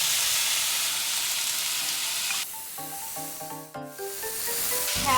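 Tomatoes and scallion whites sizzle in a pan with peppers for vegetarian salsa verde enchiladas, a steady loud hiss that carries on throughout with no talking.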